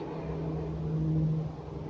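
A truck passes close by with a steady low engine drone that swells and then fades over about two seconds, with no voices over it.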